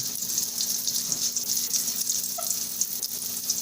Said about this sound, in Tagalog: So, patuloy lang natin ang paggisa, no?